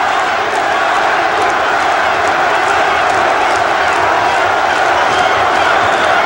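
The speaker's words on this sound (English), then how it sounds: "the crowd starts up with Larry once again" Boxing arena crowd at the 1992 Larry Holmes vs Ray Mercer fight chanting for Larry Holmes, a loud, steady roar of many voices filling the hall continuously throughout.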